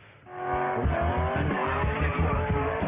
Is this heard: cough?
no